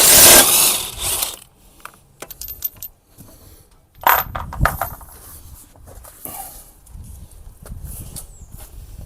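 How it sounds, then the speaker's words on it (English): Metallic clanks, ratcheting and clinks of tools loosening and removing a rear wheel from a VW Crafter van raised on axle stands, close by in scattered bursts with quiet gaps, no talking. "So now I'll set about taking the wheel off."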